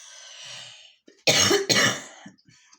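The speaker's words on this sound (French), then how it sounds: "Bon, si je pouvais arrêter de tousser," Two harsh, close coughs in quick succession, with softer throat sounds before and after.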